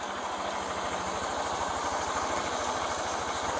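A motorcycle engine idles up close, a steady loud throb with even, rapid low pulses that hold a constant rhythm the whole time, with no talking over it.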